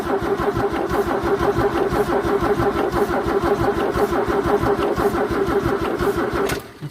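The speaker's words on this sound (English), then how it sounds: "That's a good starter motor" A 1964 EH Holden ute's starter motor cranks the engine steadily and loudly in a fast, even rhythm for several seconds without the engine catching, then the cranking stops.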